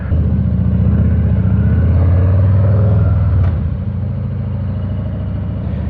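A Harley-Davidson motorcycle pulls away from a dealership on a hot day: a loud, close, steady engine rumble with a deep throbbing tone, easing slightly partway through as it rides on.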